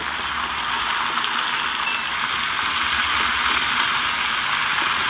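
Vegetables for khichdi, coated with turmeric and mixed with jackfruit seeds, are stirred in a hot pan, giving an even, close sizzle with soft rustling and scraping throughout and no talk.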